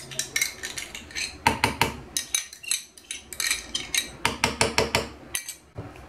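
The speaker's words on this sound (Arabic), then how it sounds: "وغادي نخلط كل شيء مزيان" A spoon clatters and scrapes against a bowl while mixing basbousa batter with cheese and yogurt, a rapid irregular run of close metallic taps and knocks with brief pauses.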